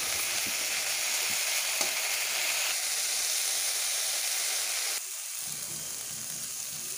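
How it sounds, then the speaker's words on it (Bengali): Bean leaves frying in a pan, a steady loud sizzle and hiss lasting throughout, with a slight drop in level near the end and faint stirring clicks. "শাকগুলোকে খুব ভালো করে ভেজে নেব"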